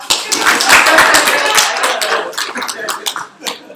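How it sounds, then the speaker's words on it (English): Students at a university student senate meeting clap after a resolution fails: a burst of crisp overlapping claps that thins into scattered, fading claps, with a murmur of voices mixed in. "You can clap if it fails."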